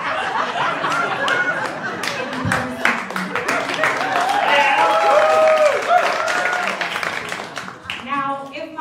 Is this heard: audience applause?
yes